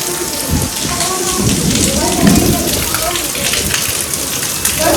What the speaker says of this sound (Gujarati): મસ્ત એકદમ વરસાદ આવી ગયો સમજો પાણી બે બેફામ પડવા મળ્યું છે